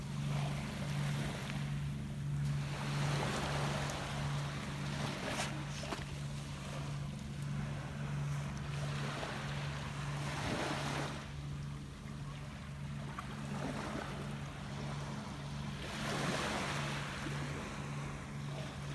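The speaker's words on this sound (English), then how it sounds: "It's a tour boat." A tour boat passing on the water off a beach, with a steady low engine drone running throughout under wind and gentle surf, swelling and easing slightly as it goes by.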